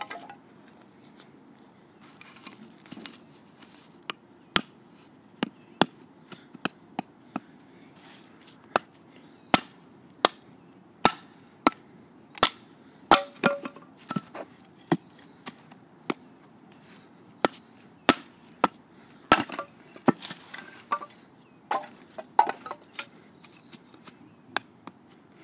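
A Schrade SCHF1 knife works small wooden sticks into feather sticks, making a run of sharp, irregular knocks and shaving scrapes, close up and clear, with no talking.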